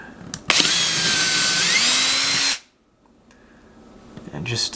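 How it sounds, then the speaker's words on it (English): A loud power drill with a 3/16 bit whirs steadily for about two seconds into drywall, pitch dipping as it bites, then stops; a few words are spoken before and after. "I'm just going to hold it while I drill some holes."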